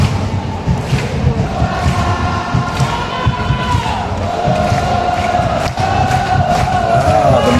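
At an FA Cup final between JDT and Terengganu, a packed stadium crowd keeps up a continuous roar of cheering and chanting, with rising collective shouts heard at a distance.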